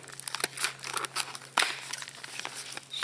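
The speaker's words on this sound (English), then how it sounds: "first thing is to take it out of the plastic" Crinkly plastic packaging is torn open to free a K&N fuel filter for carbureted equipment, with close, busy crackling and a few sharp rips over about three seconds.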